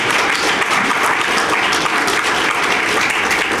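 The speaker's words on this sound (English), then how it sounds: "One more round of applause for the great job tonight" Audience applause for a panel at an evening regional cancer center event, a dense, steady wash of many hands clapping at close range throughout.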